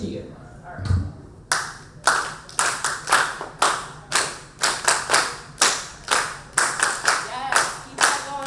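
A crowd at a Kwanzaa-style community celebration claps along in a steady rhythm, sharp unified hand claps repeating at an even pace after a brief quiet start, with faint voices beneath.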